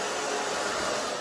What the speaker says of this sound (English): I love the blow dryer. Just blow it off there.